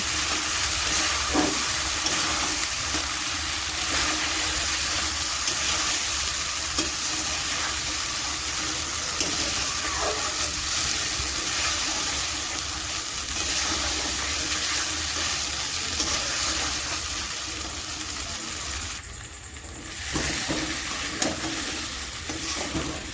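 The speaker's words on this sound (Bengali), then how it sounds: "এবার আমি ভালো করে কষিয়ে নেব" Spice paste of green chilli, ginger and salt being sautéed and stirred in a pan for potato curry, a steady loud sizzle and hiss with occasional scrapes of the spoon, continuing without pause.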